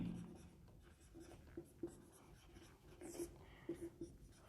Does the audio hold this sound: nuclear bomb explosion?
no